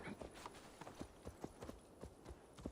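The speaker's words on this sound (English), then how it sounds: "Where's my horse? There we go." Horse hooves clip-clop in Assassin's Creed Valhalla gameplay, a quick, evenly paced run of hoof strikes that stays fairly quiet and close, with no talk.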